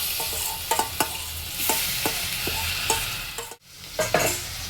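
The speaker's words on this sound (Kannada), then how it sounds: "ಇದಕ್ಕೆ ನಾವು ಮ್ಯಾರಿನೇಟ್ ಮಾಡಿ ಇಟ್ಕೊಂಡಿರೋಂತಹ ಪನೀರ್ ಮಿಕ್ಸ್ಚರ್ ಏನಿದೆ ಅದನ್ನು ಹಾಕೋಣ" Marinated paneer mixture sizzles in a pan over a low flame while a spoon stirs it, with steady frying hiss and repeated clinks and scrapes close by, and no voices.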